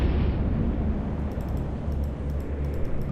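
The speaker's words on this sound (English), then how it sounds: "That was a pretty big explosion there." A warship explodes in the naval strategy game Atlantic Fleet. The blast opens with a loud burst, then a long rumbling roar and crackling debris that stay heavy and steady throughout.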